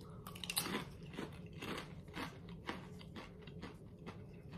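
Hollow pretzel shell snacks being bitten and chewed close up, a run of dry, crisp crunches repeating at an irregular rhythm with no talking.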